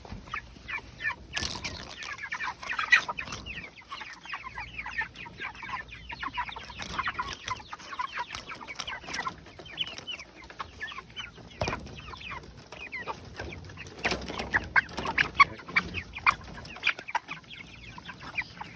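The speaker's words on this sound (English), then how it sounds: "Move out of the way, chickens!" Chickens cluck continuously and irregularly, several birds close by, with occasional wing flaps and sharper squawks throughout.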